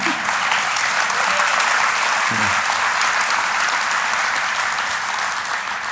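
A DEF CON hacking conference crowd breaks into loud, sustained applause, a dense continuous roar of many hands filling the hall, with a brief voice partway through.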